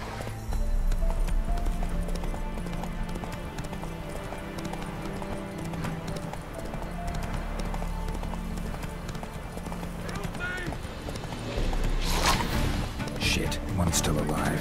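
In The Witcher 3 video game, a horse gallops at a steady clip-clop over a continuous game soundscape, with a brief whinny or burst of noise near the end.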